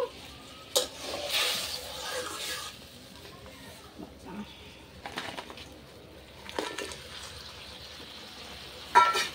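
Fried crabs drop into a simmering curry gravy in a home kitchen, giving a soft, steady sizzle and bubbling with occasional stirring clatters and a few sharper clinks, while someone talks over it.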